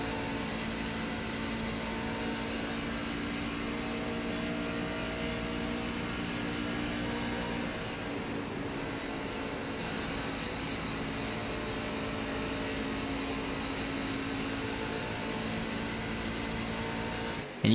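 Onboard a NASCAR race truck held at wide-open throttle on the fast Atlanta oval, a steady, loud engine drone runs without a break, with sustained harmonic tones and a brief dip partway through.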